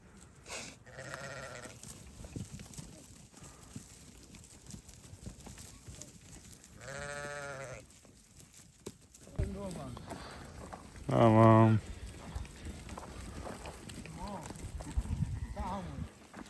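Several sheep and newborn lambs bleat at intervals, one loud close call among fainter ones, with people talking nearby in an outdoor barn setting.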